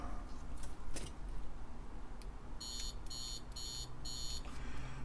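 A digital multimeter set to continuity mode, testing the key switches of a TeleVideo TVI-912C terminal keyboard, gives four short, steady, high-pitched beeps in a quick row, close and clear over a low room hum.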